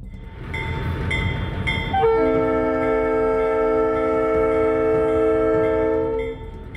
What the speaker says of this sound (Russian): Один безумец все же решился пустить поезд и снял видео с такого ракурса, что сложно поверить в то, что все это происходит в реальности